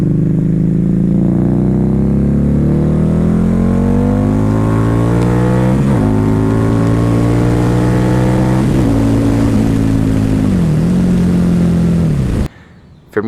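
A Harley V-Rod motorcycle accelerates hard, its engine note climbing steadily through several gear changes, loud and close for about twelve seconds before cutting off abruptly.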